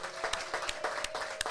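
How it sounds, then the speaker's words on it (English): Brief applause for Jay Ivy on a live talk show broadcast, with several sharp, distinct claps standing out over lighter clapping from a small group nearby, uneven and short. "Y'all give Jay Ivy a big round of applause."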